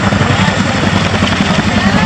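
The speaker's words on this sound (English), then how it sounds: "Down onto the landing site, monitoring the height of the aircraft as she comes into land." An RAF Chinook helicopter coming in to land at the RAF Cosford Air Show makes a loud, dense rotor roar with a steady throbbing pulse.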